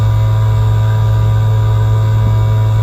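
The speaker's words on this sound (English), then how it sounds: "let that take away that annoying ringing noise in the ears" In Alan Wake, a ringing-in-the-ears effect, a steady low droning tone with a hissy wash above it, continuous and loud throughout with no talk.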